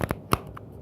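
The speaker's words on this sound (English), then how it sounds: "I'm just going to do a quick shuffle and see" A few quick papery riffles and snaps of cards being shuffled, brief and close.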